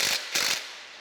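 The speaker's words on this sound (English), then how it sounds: "now I'm just going to tighten these down" A ratchet tightens bolts on a Goldens' No. 1 cane mill during assembly, giving two quick, close clicking bursts that then decay into a faint metallic ring.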